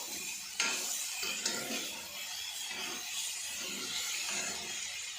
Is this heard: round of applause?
no